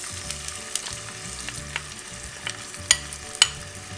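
Curry leaves and red chilies splutter in hot oil, a steady close sizzle broken by a few sharp pops and crackles, with no voices.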